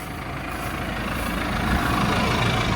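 A tractor engine idles in a steady, heavy rumble on a cattle farm pasture, constant and loud throughout with no other sounds.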